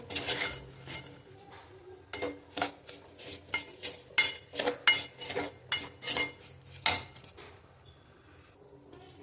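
A spoon scrapes and stirs semolina roasting in a pan with repeated clinking, scraping strokes at an uneven rhythm, close by, with no voices.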